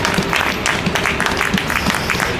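A group of people clapping together, a quick, fairly even run of hand claps close by, blended with a bit of crowd noise.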